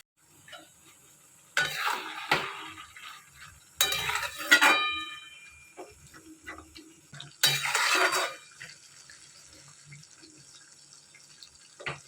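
Potato and cabbage curry stirred in a pan, with a spoon scraping and clattering against the metal in three separate bursts, each a second or two long, between quieter kitchen noises. Nobody speaks.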